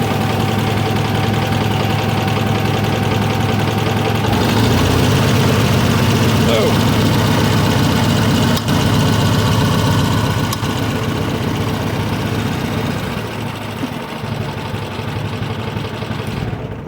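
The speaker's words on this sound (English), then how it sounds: "push that switch down so the tractor can actually run and start." An Allis-Chalmers WD tractor engine idles with a steady, loud, low chugging rumble throughout, faint knocking beneath, briefly shifting in tone partway through.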